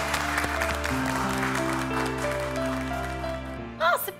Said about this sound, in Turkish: Gelinimiz Pınar Ekmen ve kayınvalidimiz Nuray Güler geliyor alkışlarınızla.